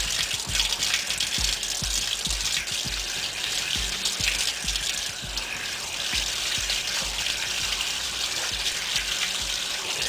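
Water gushes steadily into a container while filling to clean a DLE 55 model engine exhaust, a loud, close, continuous splashing rush from start to finish.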